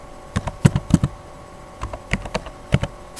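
A burst of computer keyboard presses while working in CorelDRAW, with crisp, close clicks in two uneven clusters separated by a short pause.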